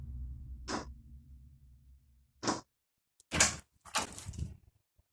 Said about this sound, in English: Dude, that sounded fucking scary when he opened the door.